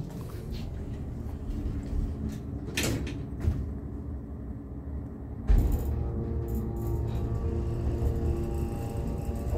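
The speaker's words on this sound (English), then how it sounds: "let's listen to this motor take a quiet trip up" An MEI hydraulic elevator at IKEA in Elizabeth, New Jersey runs upward with a steady, low motor hum, broken by a few soft thumps and a sliding, door-like clatter midway.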